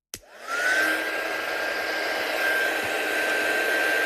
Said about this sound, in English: So we're just going to get the heat gun.